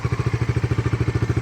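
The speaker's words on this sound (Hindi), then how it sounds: "आइडियल कंडीशन पर इंजन साउंड सुनो।" A Bajaj Dominar 400 single-cylinder motorcycle idles close by, its engine thumping in a fast, steady, even pulse with no throttle blips and no voices.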